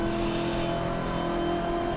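Race car engine from a BMW M8 sound mod in the Assetto Corsa racing sim at Road Atlanta, holding a loud, steady, tonal drone throughout with no speech.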